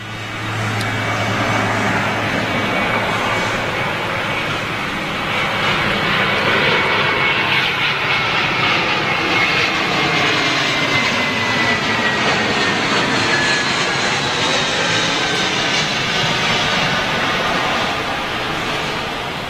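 A Frontier Airlines Airbus A320neo jet at LAX roars steadily and loudly for the whole stretch, with a broad engine rush and faint rising whine tones, no voices over it.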